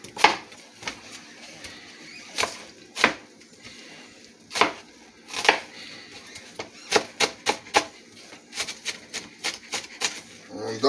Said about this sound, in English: I'm going to chop my onions up. I just want to dice them.